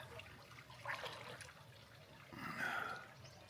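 A small waterfall at Liard Hot Springs gives a soft, continuous splash and rush of water, heard at a distance and fairly faint, swelling slightly toward the end.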